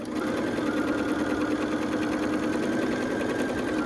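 A sewing machine, worked by foot pedal, runs steadily stitching quilt pieces for a star quilt, a close, continuous rapid whir with no pauses.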